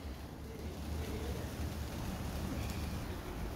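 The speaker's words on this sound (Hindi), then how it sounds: "बहुत ज़्यादा बारिश हो रही है" Heavy rain falls at a home entrance, a dense, steady hiss of rainfall with a low rumble underneath, even and moderately distant throughout.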